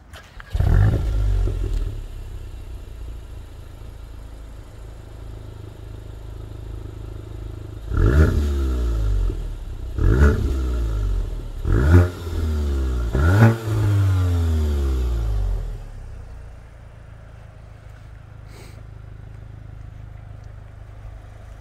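A car with a 2-litre engine fires up, then revs hard in four sharp, rising bursts that drop back between each, before settling to a low, steady idle with no talk.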